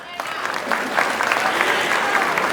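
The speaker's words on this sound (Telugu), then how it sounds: "ఈ కార్యక్రమాన్ని ఇంత ఉత్సాహవంతమైన స్టూడెంట్స్తో నింపినందుకు లక్ష్మీ షా గారికి నిజంగా ఒక రౌండ్ చప్పట్లు కొట్టచ్చు" Audience applause at a Nasha Mukt Bharat Abhiyaan anti-drug meeting packed with students, a steady wash of clapping filling the hall throughout, fairly loud and close.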